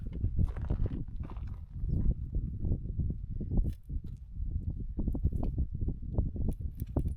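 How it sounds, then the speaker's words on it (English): A young horse moves in close on a remote outback track, its hooves clip-clopping in a loose, uneven rhythm, fairly loud and near, with no talking. "Shadow just got kicked in the head by a young horse"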